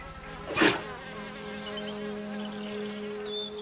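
A hive of around 40,000 honeybees in an English garden fills the air with a steady, close, droning buzz, with one louder bee passing briefly near the start and no voices.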